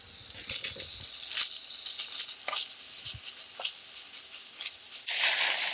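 Noodles sizzle and crackle in a hot pan over a medium stove flame, a steady close frying hiss with brief stirring scrapes and a louder burst of sizzle near the end.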